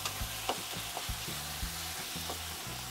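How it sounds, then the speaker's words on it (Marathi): Onion and tomato stirred and fried in a pan, a low steady sizzle with a rhythmic series of dull scraping strokes of a spoon roughly every half second, fairly quiet and close, no talk. "आता पूर्ण टमाटर गळसतोवर मी हलवून चांगलं घेतलेलं आहे"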